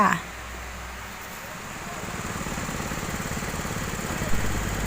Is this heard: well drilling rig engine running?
yes